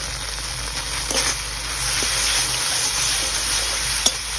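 Crab curry masala sizzles and fries in a pan while being stirred, a steady close hiss with soft scraping taps and one sharper clink near the end.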